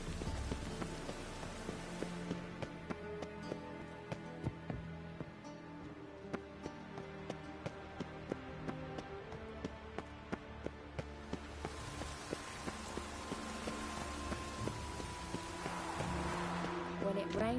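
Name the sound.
rain falling in The Witcher III: Wild Hunt video game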